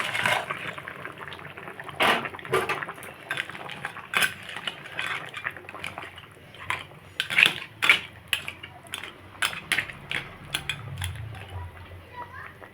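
Fried crabs go into a pot of bubbling curry gravy, bringing sharp clinks of utensils against the pot, soft liquid stirring and a low simmer beneath, with occasional talk.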